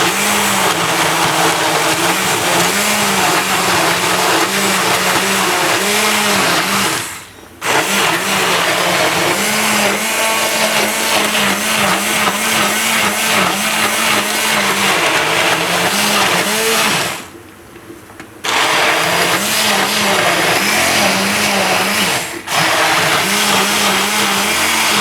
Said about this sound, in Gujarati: આને આપણે બ્લેન્ડરથી પીસી લેવાનું આ રીતનું